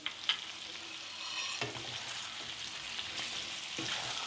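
A pot of duck curry with Sichuan pepper powder sizzles on a high flame. Scrapes and knocks of a spoon stirring break into the steady frying hiss, fairly quiet and close.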